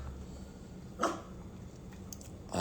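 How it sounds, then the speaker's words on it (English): A single short puppy bark near the one-second mark, then another yelp at the very end, over a quiet room hum. "our brand new puppy, Whiskey, loves the attention."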